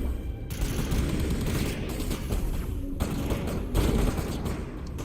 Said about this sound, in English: someone's shooting at me this way